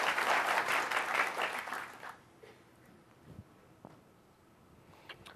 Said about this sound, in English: I was expecting a thunderous applause